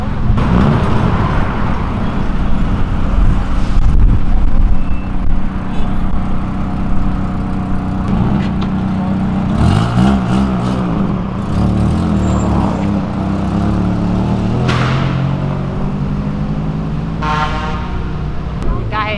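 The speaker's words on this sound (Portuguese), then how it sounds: "Que carro é esse? É um Gol, óbvio. Qual geração? Aí é o primeiro, pelo jeito." A first-generation Volkswagen Gol drives out of a car event, its loud engine and exhaust close among other traffic, with horn toots and people talking throughout.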